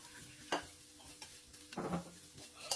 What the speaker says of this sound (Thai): แล้วก็เครื่องที่เราปั่นไว้ นำลงไปคั่วเลยครับ